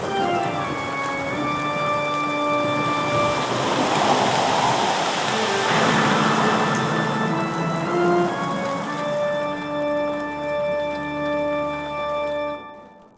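A simulated storm runs with a continuous loud wash of rain and wind, layered with sustained tonal hums and a swelling rumble midway, steady throughout before cutting off abruptly at the end.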